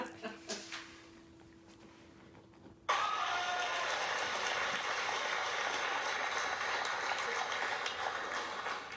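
Applause for a graduate bursts in suddenly and holds as a steady, dense wash of clapping, following a few faint sounds and a quiet stretch.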